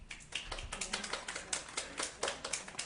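Scattered clapping in a council chamber during a public participation meeting: a sparse, irregular run of light claps, fairly faint and distant, continuing for a few seconds.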